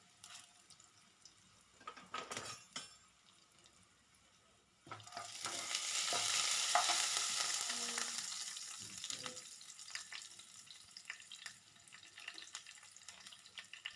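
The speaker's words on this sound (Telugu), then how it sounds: "ఒక పావు టీ స్పూన్ జీలకర్ర ఒక పావు టీ స్పూన్ ఆవాలు కొంచెం శనపప్పు కొంచెం మినపప్పును వేసుకొని బాగా పోపును కలుపుకోవాలి" Cumin, mustard seeds, chana dal and urad dal tempering in hot oil for a ridge gourd curry: a few soft clinks, then a loud, steady sizzle from midway with stirring scrapes, fading slightly toward the end.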